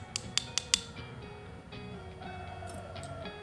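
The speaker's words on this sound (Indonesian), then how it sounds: "kita ketok pakai palu kecil" A small hammer taps the hinge pin of a S.T. Dupont lighter, giving four sharp, quick metallic knocks close by, followed by a low mechanical hum and faint creaking.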